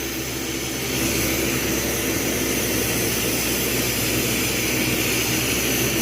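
A propane and oxygen glassblowing torch roars with a steady, loud broadband hiss throughout, swelling slightly after the first second and holding constant with no speech.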